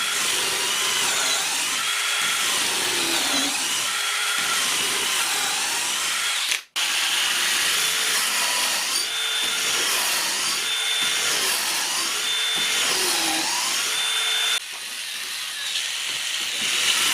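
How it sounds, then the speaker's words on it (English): A power drill bores a series of holes into scrap wood for a bee hotel, the motor whining steadily under load with short pauses between holes and one brief break midway, loud and near. "Well, that took a bit of drilling, all of those"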